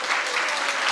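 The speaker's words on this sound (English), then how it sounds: "Girls varsity soccer, clap it up," A school sports awards audience claps steadily for the girls varsity soccer team, a dense, continuous wash of applause for about a second.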